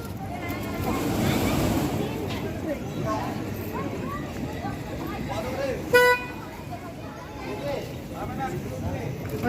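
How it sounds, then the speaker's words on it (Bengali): A toy train at Dheusagar Park, an amusement park in Digha, sounds its horn: a single short toot partway through, heard over a steady wash of wind and distant crowd noise. "ওই তো টয় ট্রেন চালু একটা আছে একটা বড়"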